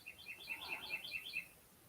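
Small bird chirping outdoors, a quick run of bright, high, repeated tweets in a rhythmic trill lasting over a second, moderately close above quiet background noise, no talking.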